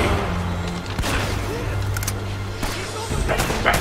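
Repeated gunshot bursts of blind cover fire in the action game Uncharted: Drake's Fortune crack close and loud in an irregular rhythm over ambient battle noise, with someone talking.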